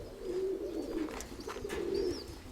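Pigeons coo softly nearby, low rolling calls repeating in a slow rhythm over quiet background noise, with a few faint higher chirps, and no one speaking.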